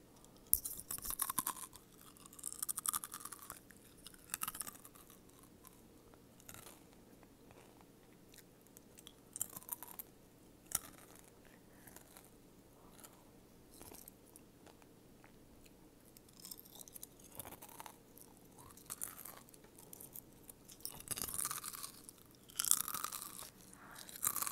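Crunchy cereal chewed close to the microphone in ASMR style, with repeated crisp bites and crunching in irregular bursts separated by quiet pauses, and no talking.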